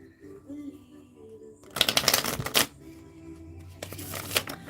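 A Mystic Mondays tarot deck is shuffled by hand at close range. Two bursts of crisp, riffling card flutter are separated by a short pause, with soft room noise in between.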